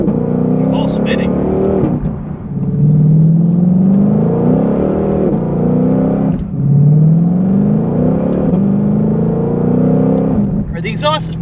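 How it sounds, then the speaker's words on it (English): A Ford Shelby GT500 V8 revs and accelerates, heard from inside the cabin, its loud exhaust rising through gears in long climbing sweeps with brief dips between shifts, steady and close. "All right, the exhaust is pretty loud when you're inside the car."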